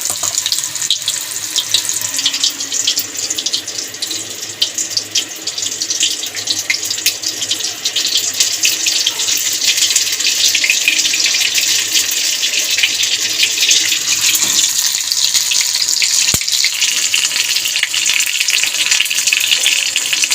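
Stuffed potol, pointed gourd, laid into hot oil and frying on a low flame, a dense steady hiss that swells and holds loud for the whole stretch, with one brief knock late on.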